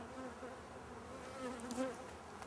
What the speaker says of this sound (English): There are an enormous amount of bees in the hive, but the problem is that it's got disease.